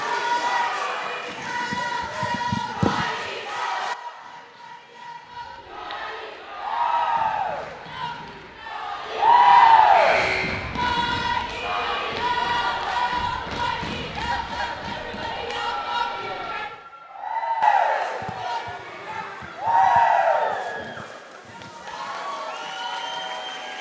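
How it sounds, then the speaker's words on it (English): Rival cheer squads chant and yell in rhythmic bursts during a timeout at a boys varsity high school basketball game between White Swan and Highland, with crowd cheering swelling and fading between the chants. "Bring it on, the battle of the cheer squads. Getting these crowds going."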